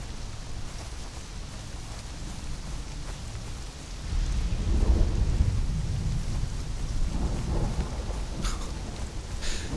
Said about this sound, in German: das Gewitter zuckt im Hintergrund